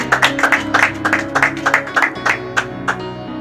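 Applause at a Bible college graduation ceremony, with a run of sharp, irregular claps from a nearby crowd over a sustained musical or electronic hum, steady for a few seconds.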